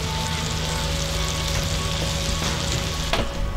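Hamburger patties sizzle loudly in a cast iron pan, a close, continuous frying hiss with a slight flare near the end and no talking.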